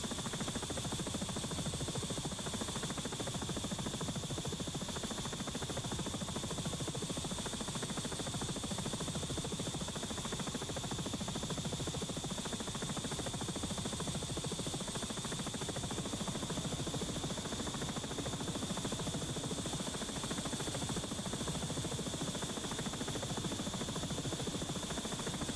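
A steady, buzzing helicopter rotor and engine drone in the X-Plane 11 flight simulator holds constant throughout, even and continuous with a high whine above it.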